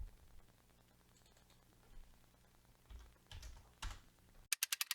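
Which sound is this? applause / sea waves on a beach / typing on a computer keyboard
typing on a computer keyboard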